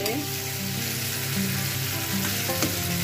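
Ginger-garlic paste, salt and three tomatoes fry in a pan with a loud, dense, close-up sizzle that holds steady throughout. Faint clinks of stirring sit underneath.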